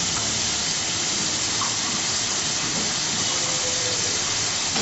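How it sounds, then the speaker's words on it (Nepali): Water poured into sizzling tomato masala in a cooking pan gives a steady, loud hiss of steam and frying that fills the whole stretch evenly, with no voices. "इसमें हम ज़रा सा पानी मिलाएंगे"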